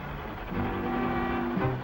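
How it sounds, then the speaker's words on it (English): A cartoon steam locomotive, the old 92, lets out a sustained whistle-like steam blast. The tone holds steady and fairly loud for about a second, then shifts pitch near the end over a low mechanical rumble. "Stop this train!"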